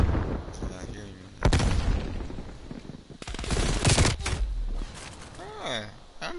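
Rapid bursts of gunfire from a shooter video game come in two loud clusters, with a voice talking over and between the shots.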